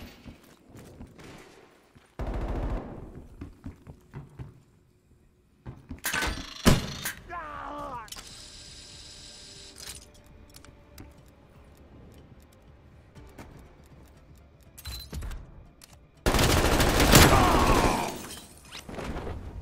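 Scattered gunshots and impacts during a search and destroy round in a shooter video game, sharp bursts separated by quieter gaps, with a loud heavy burst near the end and faint game voice lines in between.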